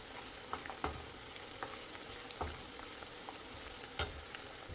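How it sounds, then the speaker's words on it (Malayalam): Garlic sautés in a pan until browned for beef pickle, a steady soft sizzle broken by occasional sharp clicks from stirring. "വെളുത്തുള്ളിയൊക്കെ ചെറിയ രീതിയിൽ ബ്രൗൺ കളർ ആകുന്നിടം വരെ നമ്മൾ വഴറ്റി കൊടുക്കുക."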